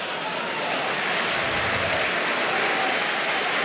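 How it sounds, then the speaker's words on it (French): At the 1999 Rugby World Cup match between France and Fiji, the Toulouse stadium crowd applauds the French captain, producing a broad, sustained wash of clapping and crowd noise that holds loud and steady throughout. "il est applaudi par le public"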